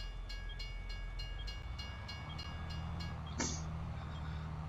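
A train passes in Farming Simulator 22 with a steady rumbling roll, rhythmic clacking over rail joints and a brief horn-like tone near the end, continuous and fairly loud throughout.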